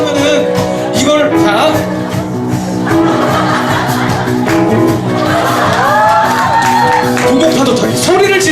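Concert audience at a fireside concert shouting and whooping together as they do a wave, a loud, continuous crowd roar with rising cheers, music or tones underneath.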